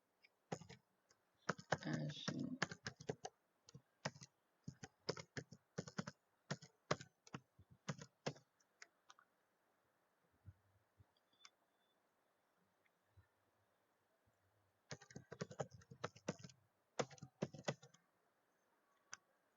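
Keystrokes on a computer keyboard as a C program is typed into Turbo C++, coming in quick irregular bursts of clicks with a long quiet pause mid-way before a second flurry, close and fairly soft.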